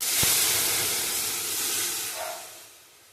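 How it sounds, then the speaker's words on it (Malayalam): Cooked lentils tipped into hot coconut oil with garlic and ginger set off a loud, steady steamy hiss that gradually fades, with a brief thud at the start. "ഇതിലേക്ക് നമുക്ക് വേവിച്ച് വെച്ച പരിപ്പ് ഒന്ന് ചേർത്ത് കൊടുക്കാം"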